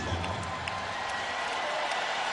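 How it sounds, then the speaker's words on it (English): Basketball fans in an NBA arena cheering Michael Jordan's return to the game in a Wizards versus Lakers match, a steady broad crowd roar with scattered whoops, fairly distant and continuous. "Fans cheer Michael Jordan back in."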